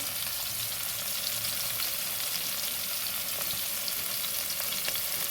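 Turmeric and salt fry steadily in a hot pan, a dense, even sizzle filling the whole stretch at close range with faint scraping stirs and no voices.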